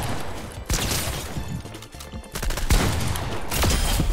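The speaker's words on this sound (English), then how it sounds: "Why does he shoot his own wall" Sustained gunfire in Fortnite with shots hitting a built wall, loud and close, overlapping bursts running continuously with sharp cracks and crashing impacts throughout.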